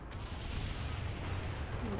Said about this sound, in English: Got a napalm strike.